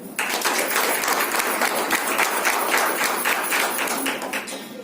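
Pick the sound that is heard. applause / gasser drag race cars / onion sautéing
applause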